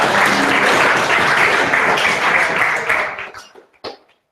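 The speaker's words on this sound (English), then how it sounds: "Let's give him a round of applause" Applause at a deep learning meetup for a software architect taking the floor, a loud, dense burst of clapping from the room that fades over about three seconds into a few scattered final claps.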